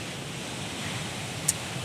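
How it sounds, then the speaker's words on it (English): Sea waves wash on a beach by the volcanic sea stacks of Madeira, a steady broad hiss of surf mixed with wind, with one faint brief click. "the sea and the crashing of the waves is sometimes pretty"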